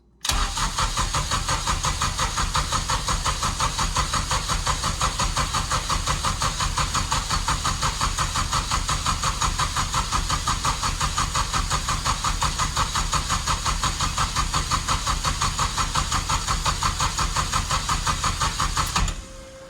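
A Porsche 996 fitted with a swapped Honda K-series engine cranks over continuously on the starter to prime a bone-dry engine with oil, a steady rhythmic churning that runs for nearly twenty seconds without firing, up close and loud.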